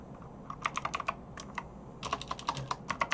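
Close, crisp clicks of someone typing on a computer keyboard, coming in two quick bursts separated by a brief pause.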